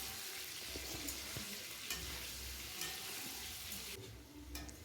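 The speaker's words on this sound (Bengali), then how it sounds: "তেলটাকে গরম হলে ওতে আলুগুলো লবণ ও হলুদ দিয়ে ভেজে রেখে দেব" Potatoes sizzle and crackle in hot oil in a kadai, seasoned with salt and turmeric, with scraping stir strokes at intervals. The frying is steady and close, with no one speaking.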